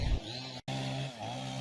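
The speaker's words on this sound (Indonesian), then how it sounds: "memotong batang dan ranting pohon dengan menggunakan gergaji mesin" A chainsaw cuts through fallen tree trunks and branches after a storm, its engine drone steady and fairly faint, with a brief dropout partway through.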